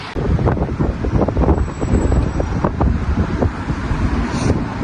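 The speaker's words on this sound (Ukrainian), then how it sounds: "Я ненавиджу Вроцлаву за цей вітер." Loud, steady wind buffeting the microphone outdoors in Wrocław, a continuous low rumble with gusty surges throughout.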